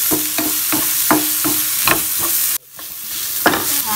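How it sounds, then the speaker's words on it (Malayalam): Ginger, garlic and green chilli cooking in a pan for chicken pola, with a loud steady sizzle punctuated by regular rhythmic stirring scrapes, a brief dropout midway, then the frying and stirring resume; no voices. "ഇഞ്ചി വെളുത്തുള്ളിയിലൊക്കെ ആ ഒരു പച്ച മണം പോകുന്നത് വരെ നന്നായിട്ടൊന്ന് ഇളക്കി കൊടുത്ത്"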